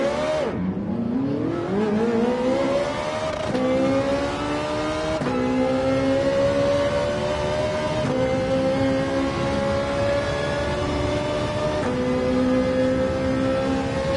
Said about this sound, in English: You can hear that engine hammering away.